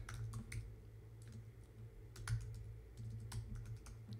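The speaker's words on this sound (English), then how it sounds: "is me fumbling the keyboard as I try and type it into the chat" Fast, uneven typing on a computer keyboard, clusters of light clicks with short pauses, close and quiet over a low hum.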